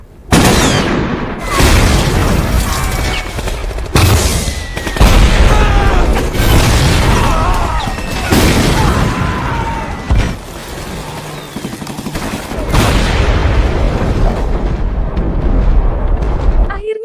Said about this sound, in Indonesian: Kolonel Lee yang mengamati dari jarak jauh memerintahkan agar menggunakan artileri jarak jauhnya untuk membalas serangan Jerman.